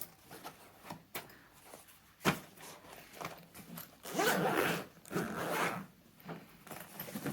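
A zipper on a crafting travel bag pulled open and shut close by, long ripping runs with a few sharp clicks and pauses between, no talking.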